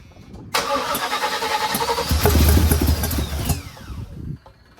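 A 1979 Chevrolet Malibu project car cranks over and catches on its first start, the starter whirring briefly before the engine fires into a loud, rough revving idle that rises, then cuts off.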